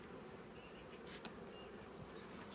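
Steady insect buzzing from many honeybees at an open hive, a dense continuous hum at low level with no voices.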